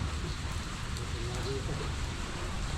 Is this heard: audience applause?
no